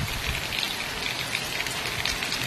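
A heavy downpour in Chikkamagaluru pours down as a dense, constant hiss of rain striking surfaces, steady and unbroken with no voices.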